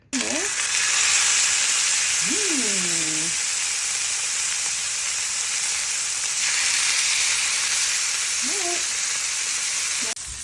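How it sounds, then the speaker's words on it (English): Skirt steak sizzling in a hot skillet: a loud, close, continuous hissing fry that holds steady for about ten seconds, with a few brief voiced sounds rising and falling over it. "And now to our skillet to cook our skirt steak"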